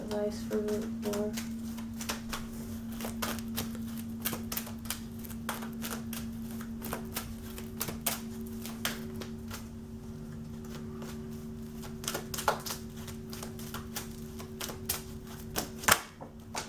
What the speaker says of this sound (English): I'm gonna try to keep shuffling